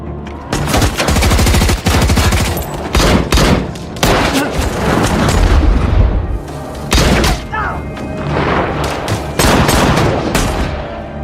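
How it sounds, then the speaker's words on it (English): Film shootout gunfire with rapid bursts of shots and heavy thuds, loud and near, firing in dense clusters with short pauses and some voices mixed in. "White Bull and the gang arrive and begin shooting"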